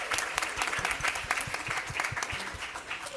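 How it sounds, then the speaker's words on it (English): Audience applause at a literacy symposium in Newark, a steady dense patter of many hands clapping at moderate distance for about three seconds, with no voices over it. "we want to give them a round of applause and acknowledge their hard work as well"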